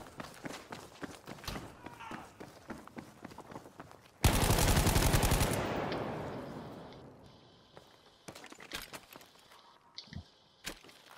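Gunfire in a multiplayer shooter game, a sudden loud, dense burst of rapid shots that decays into a long fading rumble, with scattered footsteps and voices talking before and after.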